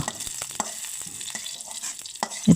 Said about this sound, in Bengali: কাঁচামরিচ জিরে ভাজা হয়ে গেছে